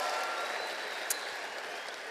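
Applause breaks out at a high school graduation during the diploma presentation, a steady wash of clapping from a distant crowd that holds evenly throughout.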